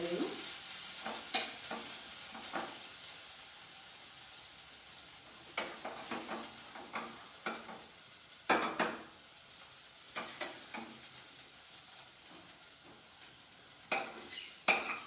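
Cooked vegetables stirred into a pot of khichdi seasoned with asafoetida, cumin and red chili, heard as soft scraping and gentle sizzling with irregular spoon-on-pot knocks, close by and with no talking.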